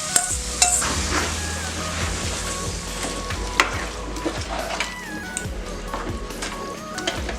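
Drumstick pieces and cooked dal sauté in a pan for sambar, a dense close sizzle under repeated scraping and clattering stirs of a spatula; no talking.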